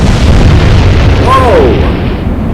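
Naval gunfire in the Atlantic Fleet video game: a loud, sustained booming rumble of heavy guns with a brief whistling sweep partway through, continuous throughout.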